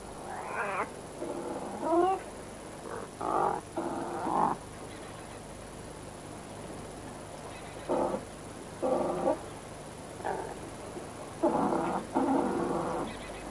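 Wildcats in their mating season trade loud, drawn-out yowls and caterwauls, about ten separate calls spread in bursts with quiet gaps between them, close and clear over a low rumble of background noise.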